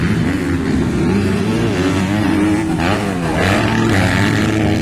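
A 250 racing motorcycle engine screams at high RPM during a race, a loud, sustained, wavering roar with rising and falling pitch, close and continuous throughout.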